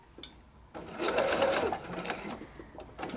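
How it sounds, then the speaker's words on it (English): A sewing machine stitches a quilt block, its motor whirring steadily for a couple of seconds after a short quiet start, close and fairly loud, with faint clicks at the ends. "I'm just going to keep sewing all the way"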